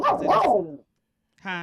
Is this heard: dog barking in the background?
yes